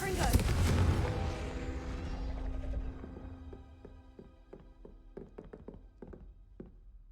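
A Confringo fire spell is cast in the Hogwarts Legacy video game, giving a loud booming burst that rumbles and fades, followed by a series of sharp, evenly spaced tapping impacts.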